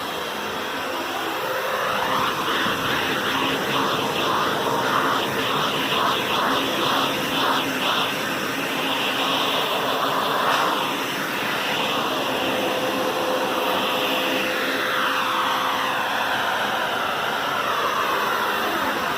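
A HART wet/dry shop vacuum runs continuously with a steady, fairly loud whooshing roar of rushing air and a faint whine, alone without talk.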